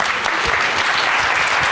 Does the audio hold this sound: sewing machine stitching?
no